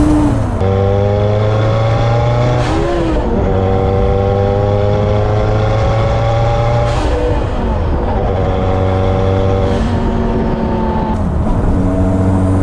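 A Kimera EVO 37 four-cylinder sports car revs loudly in third gear, steadily climbing in pitch, with brief dips as it shifts, droning close and continuous throughout.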